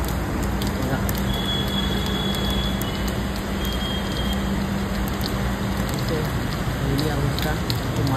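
Heavy monsoon rain pours over Belapur, Navi Mumbai, a dense, constant hiss of downpour on surfaces with a faint steady hum underneath, no voices.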